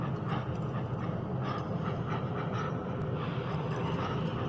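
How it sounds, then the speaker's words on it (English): Heavy, eerie breathing rises and falls in a slow rhythm through the dark Tomb of Giants in Dark Souls. It sits over a dense, rumbling ambient bed, with no voices. "the terrifying breathing sounds in the Tomb of Giants"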